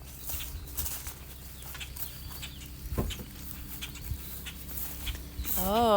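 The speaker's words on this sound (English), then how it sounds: "It's a big old bird." A big adult bird, apparently the mother, flaps and calls near its nest in a backyard garden: scattered wingbeats and scuffling with a sharp burst midway, fairly close, over outdoor background noise.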